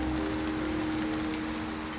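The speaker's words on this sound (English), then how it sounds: "Lots of rain, but hopefully we can get through it." Heavy, driving rain falls on a house building site as a steady, dense hiss that fills the whole moment evenly, with no voices.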